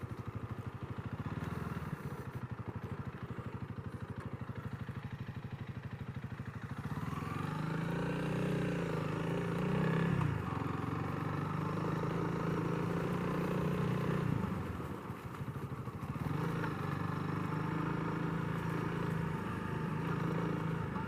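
A Honda CRF300L motorcycle in stock trim rides along, its single engine holding a steady, droning hum that swells slightly as throttle opens and eases, continuous throughout with no talking.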